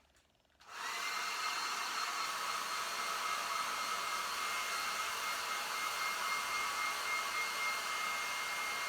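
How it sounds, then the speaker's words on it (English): A hairdryer switches on and blows continuously to dry a handmade vessel, a loud, steady whooshing roar that holds without a break. "So I'll just get my hairdryer and give it a blast."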